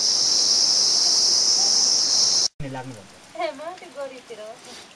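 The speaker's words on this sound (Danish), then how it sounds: "Ja, så er vi regnet inde. Det ser ud som om monsunen ikke er helt overstået endnu." Heavy monsoon rain falls as a dense, loud hiss during a trek in the Kanchenjunga region of the Himalaya, then cuts off abruptly as a person begins talking.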